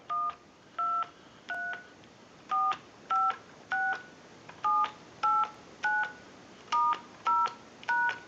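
Touch-tone digits are dialled on a payphone handset, a series of about fifteen short, clean two-tone beeps spaced in an even rhythm over a quiet line.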